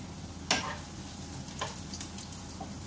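Onions go into a pan of oil alongside baby octopus, making a soft, close, steady sizzle broken by a few sharp pops and crackles.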